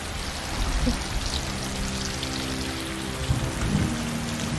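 Steady rain falls continuously, a dense broadband hiss with some low rumbling patter, holding at a fairly even level throughout with no voices.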